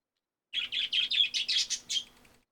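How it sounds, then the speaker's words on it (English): A bird chirps in a quick series of about eight bright, evenly spaced tweets, close and clear, with no talk over it; the birdsong sits inside a Deepwoken gaming session. "Thank you, birds. Your input is always valued."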